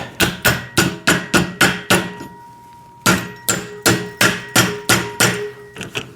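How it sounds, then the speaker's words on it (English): A rubber mallet taps a part onto a stair climbing hand truck, about fifteen sharp, close blows in quick bursts with a brief pause midway, no talking. "grab a rubber mallet to kind of help this on here"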